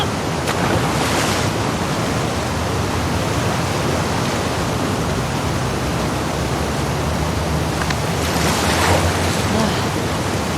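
Ocean waves in The Last of Us Part II Remastered, a loud, continuous surf wash with two brief surges of spray near the start and end.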